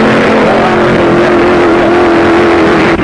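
A dragster at the Great Lakes Dragaway around 1956 blasts down the strip, a loud, sustained engine roar holding steady for the whole stretch with no voices.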